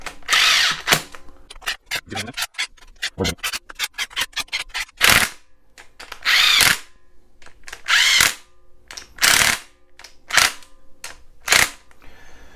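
A power tool zips down 1/2-inch ARP head bolts on an LT1 cylinder head in repeated short whirring bursts with brief pauses between them, loud and close, with no speech.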